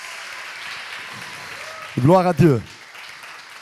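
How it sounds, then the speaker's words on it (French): A church congregation applauds steadily in the background while someone speaks loudly over it, the clapping continuing evenly beneath his voice. "Est-ce qu'on peut les applaudir, tous ces nouveaux qui sont là parmi nous?"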